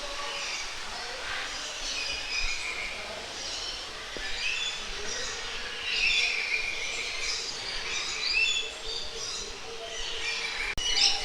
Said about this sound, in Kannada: ಇಲ್ಲಿ ಭಾಳಷ್ಟು ಗಿಳಿಗಳ ಪ್ರಭೇದಗಳ ಒಂದು ಪಕ್ಷಿ ಕೇಂದ್ರವೇ ಇದೆ.